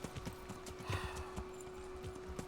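Hooves clip-clop in quick uneven patter from a horse in a video game, faint and mixed with a steady hum and game background noise.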